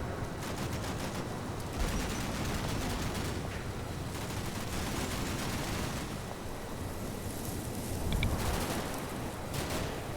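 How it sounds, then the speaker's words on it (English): Javelin missile fire in a military video game, dense crackling bursts of gunfire and explosive rumbles rolling continuously, loud and cluttered with no voices. "Yep, that was a javelin."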